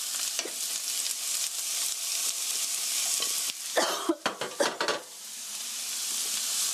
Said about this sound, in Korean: 기름을 한 바퀴 돌려주시고요. 썰어놓은 어니언, 갈릭, 캐럿 넣어주세요.